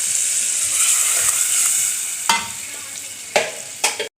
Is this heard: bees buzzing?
no